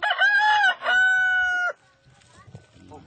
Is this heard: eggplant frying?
no